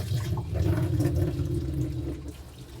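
Coolant pouring out of a BMW E39 540i into a drain pan underneath, a close, steady gushing splash that tapers slightly toward the end, with no talking.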